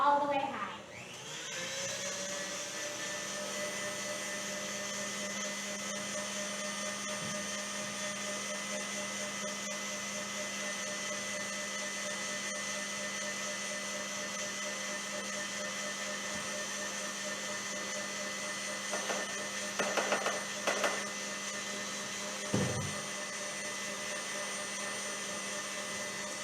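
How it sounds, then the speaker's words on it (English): An electric mixer runs steadily on high speed while sugar is mixed in, a continuous loud whirring drone that holds for the whole stretch, with a few brief clatters near the end. "I'm just going to slowly incorporate the sugar while the mixer is running"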